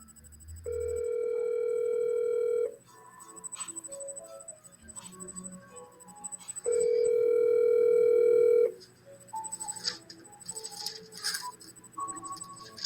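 A telephone call being placed: two long, steady ringback tones, each about two seconds, separated by a quiet pause with faint background clicks, heard clearly and alone.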